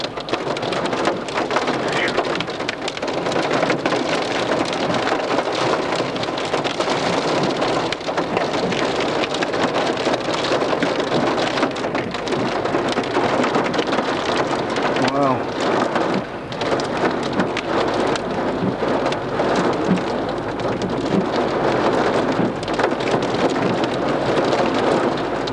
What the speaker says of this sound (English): Here comes the hail again.